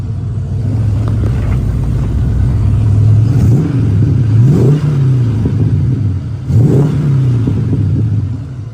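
A big muscle car engine idles with a deep, loud rumble, blipping the throttle into three quick revs that rise and fall back.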